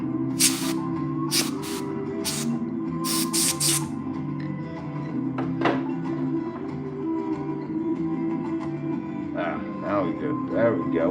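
A spray paint can, with a nozzle that seems faulty, hisses in several short bursts while painting a Goku figure, mostly early on, as a person talks throughout.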